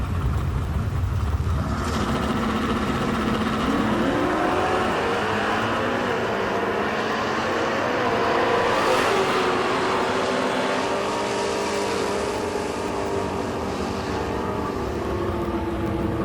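At a Northeast Sportsman Nationals drag strip, a 1969 Chevelle and a Chevy Camaro roar side by side in a sustained, loud engine blast that rises in pitch through acceleration, then fades as the cars pull away.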